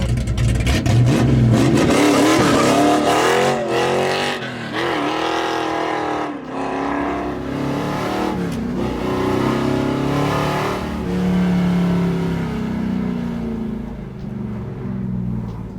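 A 502 big-block V8 in a Chevelle SS roars and revs hard during a burnout, rising and falling in pitch over and over as the tires are held spinning, close and continuous.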